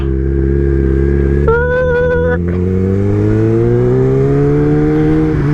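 Kawasaki ZX10 sport motorcycle ridden through traffic, its engine a loud, close, continuous drone that rises steadily in pitch as it accelerates, with a brief higher tonal burst midway.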